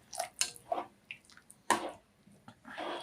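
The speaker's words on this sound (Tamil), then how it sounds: "நான் இன்னும் ஒரு 1/4 டம்ளர் அளவுக்கு மட்டும் தண்ணி விட்டுக்கிறேன்" Water is poured into a pot of mutton kari rasam, making a few short splashes and drips, close and fairly quiet.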